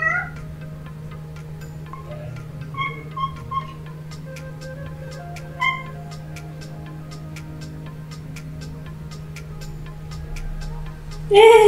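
A house cat gives a few short, faint meows over a steady low hum, with soft ticking in the background, then a brief louder sound at the very end.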